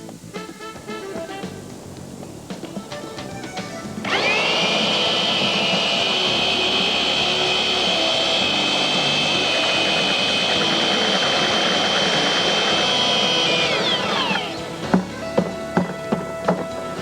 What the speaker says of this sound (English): The mixing of the mortar is best carried out with a motor-driven double paddle.